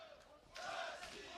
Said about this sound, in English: he's being encouraged by a vocal crowd here at the Dubai Duty-Free Tennis Center